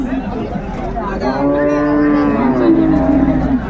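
A Sahiwal cow with her calf at a cattle market lets out a long, loud moo close by, drawn out over a few seconds above low background murmur.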